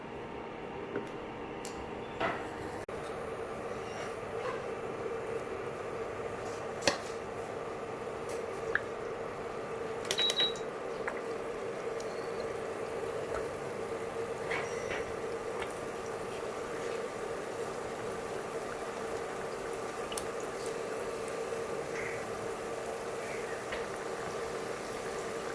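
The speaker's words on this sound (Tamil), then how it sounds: "இது ஃப்ரை ஆகிறதுக்கு கொஞ்சம் டைம் எடுத்துக்கணும்." Madakku paniyaram fry in hot oil, a soft, steady bubbling and sizzle with occasional faint drips and clicks, quiet and continuous with no talking.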